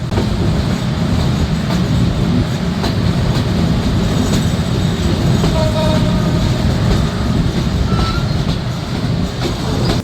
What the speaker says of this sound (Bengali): দুইটা বেজে চল্লিশ মিনিট অর্থাৎ নির্ধারিত সময় থেকে প্রায় চল্লিশ মিনিট বিলম্বে আমরা চাটমহর রেলওয়ে স্টেশন ছেড়ে যাচ্ছি